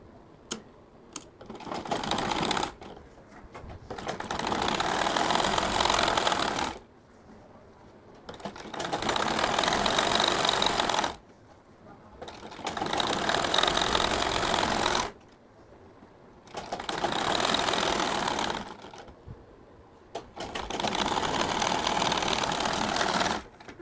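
A sewing machine stitching a fotua runs in five bursts of several seconds each with short quiet pauses between, a close, rapid mechanical clatter with no talk.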